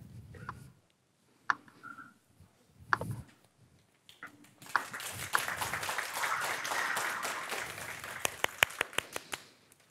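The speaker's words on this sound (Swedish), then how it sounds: "Jag hoppas att du hörde applåderna härifrån" Applause after an online presentation on migrants and the Nordic labour market, several seconds of scattered, faint clapping that follows brief voices and a few ticks.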